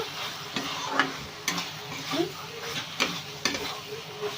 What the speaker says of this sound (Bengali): ভেন্ডিটা দিয়ে নাড়াচাড়া করব।